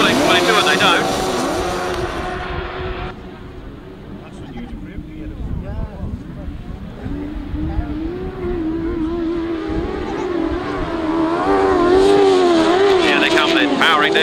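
Grasstrack racing motorcycles at the 2006 Berks Bonanza powering down the straight, engines roaring and rising in pitch as the pack nears, loud and sustained with a commentator talking over them.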